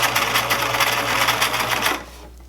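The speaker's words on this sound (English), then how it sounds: "I'm stretching both the back and the front and doing my top stitch." A sewing machine top-stitches stretched fabric on a gathered tube top, a loud, close, steady whir that stops abruptly near the end and leaves a low hum.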